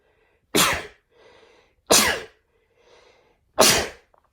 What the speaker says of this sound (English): I'm going to sneeze, sorry.